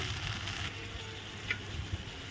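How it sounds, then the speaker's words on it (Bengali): Spices sizzle faintly in a pan for a vegetarian dish, a soft steady crackle with a few light stirring scrapes, quiet and without talk. "মশলাগুলো ভালো করে নেড়ে নিচ্ছি"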